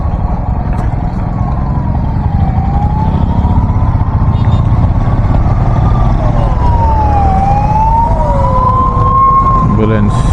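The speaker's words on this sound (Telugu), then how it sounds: "అంబులెన్స్" An ambulance siren wails in slow rising and falling sweeps through a city traffic jam, heard over a loud, steady rumble of engines and road noise from a motorbike ride.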